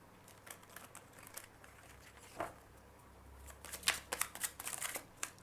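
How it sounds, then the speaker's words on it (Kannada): Tarot cards shuffled by hand, a soft papery riffling and crackle in quiet uneven bursts that thicken toward the end, close by and fairly faint. "ಶಫಲ್ ಮಾಡ್ತಾ ಇರಬೇಕಂದ್ರೆ ಕಾರ್ಡ್ ಬಂತು"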